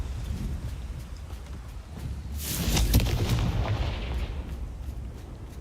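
A Confringo fire curse from Hogwarts Legacy bursts into a loud, roaring explosion with a booming, crackling blast that swells and then fades over a low rumble.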